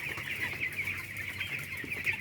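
Chickens cluck steadily in a bamboo rack coop, several birds overlapping in a continuous busy chatter at close range, with no voices heard.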